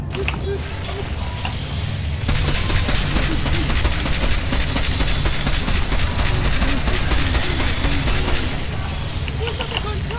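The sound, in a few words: gunfire in video game Deus Ex: Mankind Divided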